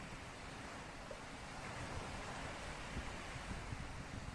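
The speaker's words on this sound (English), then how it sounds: "Listen to the sound of the waves." Ocean surf washes in a steady, continuous roar, with broad rushing noise and no voices over it.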